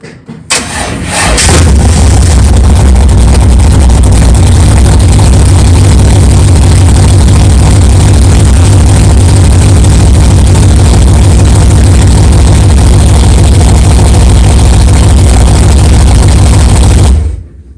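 A freshly built 383 stroker V8 in a 1964 Chevelle fires up and settles into a loud, steady, lumpy idle that runs unbroken for about fifteen seconds before cutting off.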